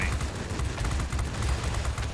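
Rapid, continuous autocannon fire from a Spitfire V's 20mm cannons in World of Warplanes combat, a dense, loud rattling stream of shots with no pauses, alone without voices.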